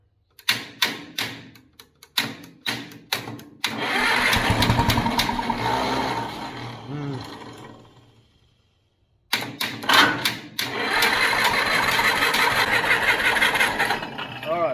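A 70-year-old D6 dozer engine with a stuck carburetor float cranks in a few sharp bursts, catches and runs loudly for several seconds, dies away into silence, then clatters back to life and keeps running close by.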